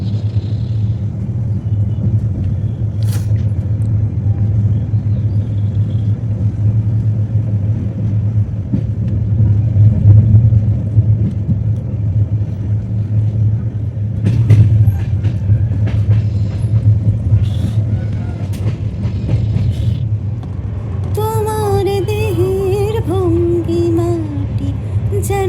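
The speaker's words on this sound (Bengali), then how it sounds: "ট্রেন এতক্ষণ দাঁড়িয়েছিল, এবার ছেড়ে দিল।" Kanchan Kanya Express pulling away from Dalkhola station and running on, a steady low rumble and rhythmic clatter of the carriages throughout, with brief creaks and a voice near the end.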